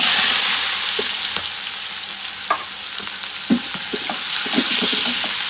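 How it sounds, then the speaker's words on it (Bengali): Cinnamon, cardamom, cloves and chopped onion frying in hot oil, a loud steady sizzle close by, broken by occasional scrapes and knocks of the stirring spoon. "এখন এই তেলের মধ্যে কিন্তু আমরা রান্নাটা শুরু করে দেবো এই জন্য আগে দিয়ে দেবো দারচিনি এলাচ লবঙ্গ এরপর দিয়ে দেবো পেঁয়াজ কুচি"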